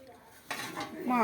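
A lid clatters onto a pan of vegetable rava upma, a short metallic knock and scrape of cookware rising after a quiet start, close and clear with no talking.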